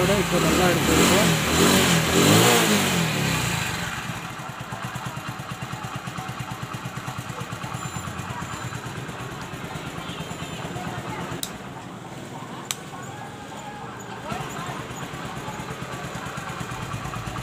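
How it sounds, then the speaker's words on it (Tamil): An older Hero Honda Splendor motorcycle engine starts with a loud, rough burst, then settles into a steady, close idle with an even putter that runs to the end. "இப்போ என்ன பண்ணலாம்னாக்கா வண்டி ஸ்டார்ட் பண்ணி பார்க்கலாம்."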